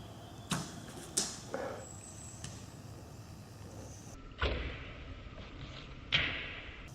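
Arrows shot outdoors at small game caught in a primitive noose trap land with several sharp, isolated thuds, spaced a second or two apart over a quiet background.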